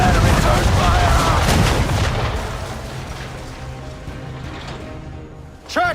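Ship cannons firing in a naval battle in Assassin's Creed III, a sustained barrage of heavy booms and rumbling blasts that is loud at first and gradually fades, with a sharp burst near the end.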